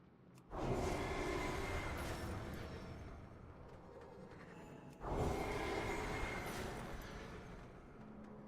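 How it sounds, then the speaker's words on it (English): Deeprun Tram in World of Warcraft rumbling along its track, two loud broadband swells of rolling rail noise each starting abruptly and slowly fading, close and steady with no talk. "Good old tram."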